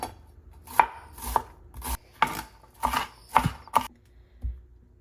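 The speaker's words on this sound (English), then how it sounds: "I'm going to start by finely chopping 1/2 of a yellow onion." A knife finely chopping half a yellow onion on a cutting board, about eight crisp, close thuds in an uneven rhythm, separated by brief quiet gaps with no talk.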